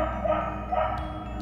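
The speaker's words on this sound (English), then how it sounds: "Y'all hear that dog bark?" A dog barks a few times in a video game, muffled yips and woofs over steady background music, with no talking.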